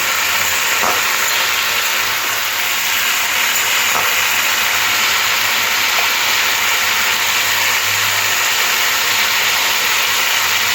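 Potatoes and long beans fry in hot oil with a steady, loud sizzle and hiss that runs unbroken, while a few faint clicks of stirring sound through it.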